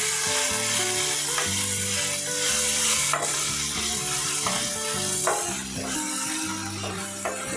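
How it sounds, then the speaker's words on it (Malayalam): Cooked tomatoes are mashed in a pan for bread upma. A spoon scrapes and stirs in repeated strokes over a constant sizzle, with no talking. "ഇനി നമുക്കൊന്ന് ഉടച്ചു കൊടുക്കുന്നു."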